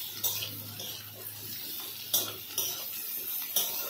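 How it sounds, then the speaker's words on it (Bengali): Boiled jackfruit seeds being stirred in a pan, with a few distinct scrapes and clinks of a utensil against the metal over a low steady background sizzle, close by. "এর সাথে এই সিদ্ধ করা কাঁঠাল দানাটা দিয়ে একটু ভালো করে নাড়িয়ে চাড়িয়ে নিয়ে"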